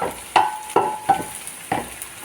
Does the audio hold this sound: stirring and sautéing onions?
yes